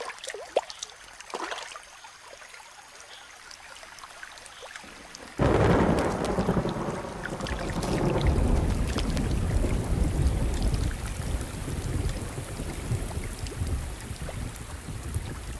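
Rain and thunder: a quiet, sparse patter at first, then a sudden loud surge of heavy rain with rumbling thunder that keeps a dense, roaring wash going to the end.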